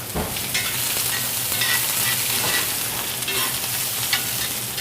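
Tofu and vegetable curry stir fry sizzles in a hot pan with a continuous, even crackle and hiss, close up, without any talking.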